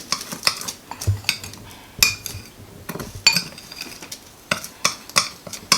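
A spoon stirs cinnamon and sugar in a bowl for keto mini cinnamon roll cheesecakes, giving a close series of irregular clinks and scrapes against the dish with short pauses between bursts.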